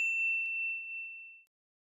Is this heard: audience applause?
no